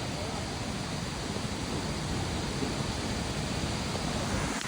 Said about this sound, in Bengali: এই যে আমার পিছনে দেখতেছেন অনেক সুন্দর ঝর্ণা